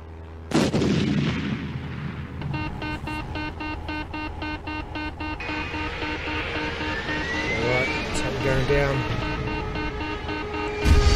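A low-flying plane in the video game Panic on Ice gives a loud, steady engine drone with a layered, rumbling tone that holds throughout after a sudden start.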